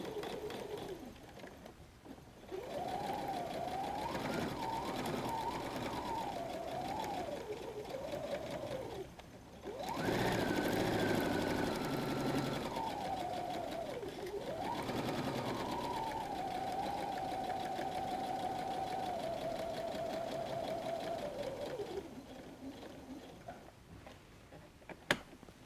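A home sewing machine runs a straight stitch at 2.5 length with the needle centered through bag fabric, whirring steadily in long runs with a brief pause partway through and slight shifts in speed.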